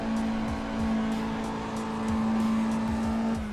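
A stock Mazda Miata drifts in the racing game Assetto Corsa, its engine holding a steady droning tone with faint, brief tire scrubs and skid sounds underneath.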